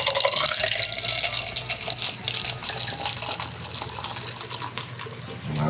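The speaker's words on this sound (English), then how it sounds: "Okay, we're gonna pour it." A tiki cocktail is poured into a glass, a continuous splashing liquid stream with bright clinking, loud at first and gradually easing.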